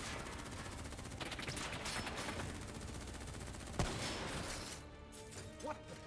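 Dense, sustained automatic gunfire crackles through a dark combat scene in Black Ops 3, a loud continuous barrage with a few sharper single cracks before it thins out near the end.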